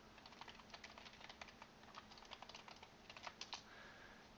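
Quiet, rapid keystrokes come from a computer keyboard as a username and password are typed. The clicks are soft and fairly close, falling in irregular bursts with brief pauses between them.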